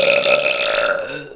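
A single long, loud burp rumbles close to the microphone for over a second, standing alone without talk.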